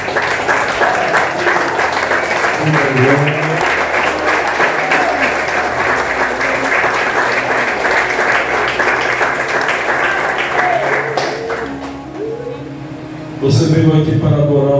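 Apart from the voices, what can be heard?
congregation applauding in church service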